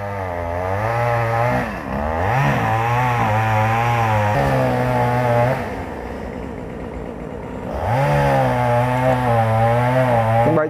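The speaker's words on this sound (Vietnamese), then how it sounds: "Hai chú đang cưa một cái cây này, nó bị chết khô nè" Chainsaw cutting through a dead, dried-out tree, engine roaring loud and close with repeated revving swells and a brief dip in the middle before picking back up.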